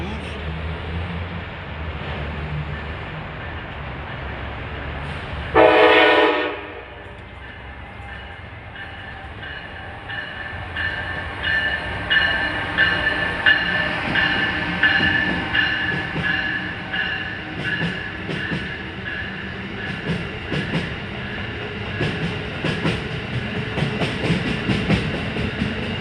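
A train pulls away at a railfanning spot in Secaucus/Rutherford, New Jersey, with a brief loud burst early on, then a steady rumble and rhythmic wheel clatter that builds and holds, close by.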